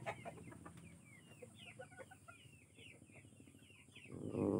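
A Bisaya native chicken clucks in a quick run of soft, close calls at a quiet rural yard, followed by a louder rustling noise at the end.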